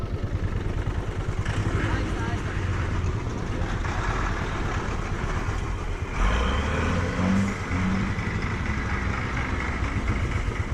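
On a narrow mountain road in Ladakh, a motor vehicle engine rumbles steadily up close as an oncoming lorry squeezes past, its heavy drone swelling midway.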